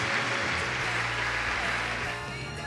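High school students cheering loudly in a dense crowd as rugby player Kazuki Himeno shows off his signature jackal at his alma mater, a continuous roar of voices and clapping.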